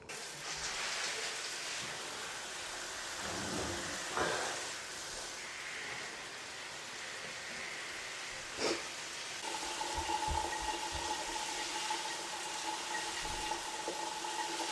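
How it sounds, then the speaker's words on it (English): Shower water pours steadily over a potted Monstera Albo, hissing broadly across its leaves, moss pole and soil, with a brief spatter midway and a faint tonal hum joining near the end. "I'm gonna go ahead and put this in the shower, soak up all the leaves, soak up that moss pole, and make sure the soil's fully wet"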